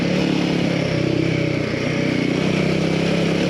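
A Ducati DesertX Rally's L-twin engine runs steadily with a throbbing, slightly rough pulse, close and loud throughout with no voices.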